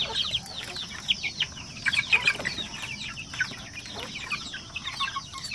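Sampin chicks and chickens, a pure breed with no other poultry mixed in and past 45 days old, cluck and cheep together in a busy, overlapping chorus of short calls at close range, with no speech.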